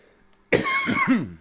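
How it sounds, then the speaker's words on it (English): A person coughs, starting with a sudden harsh burst after near silence, then a few rough, throaty hacks close to the microphone. "Hang on, I need to cough some more."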